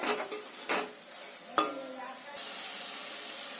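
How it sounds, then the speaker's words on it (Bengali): Grated carrot and raisins being stirred in thickening sugar syrup over low heat for carrot laddu, soft spoon scrapes and taps against the pan over a quiet sizzle. "এই সময় গ্যাসটা একদম লোয়ে রেখে অনবরত নাড়তে হবে, না তো তলায় লেগে যাবে।"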